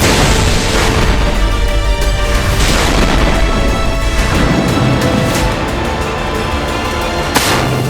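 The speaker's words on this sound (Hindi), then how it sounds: "हमास लड़ाकों ने आरपीएफ से इजरायली टैंक पर हमला किया।" RPG attack explosions strike an Israeli tank in northern Gaza: loud booms and bursts of blast noise, with sharp reports and rumbling debris, dense and continuous throughout.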